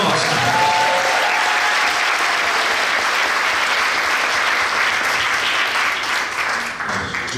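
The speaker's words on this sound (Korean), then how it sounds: "뜨거운 박수 부탁드립니다" Sustained, loud applause from a seminar audience at a GED leadership event, filling the clip steadily before thinning slightly near the end.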